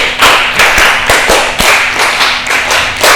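A classroom of students claps together in a rhythmic counting chant, loud sharp unison claps close by in short repeated bursts with brief pauses between groups.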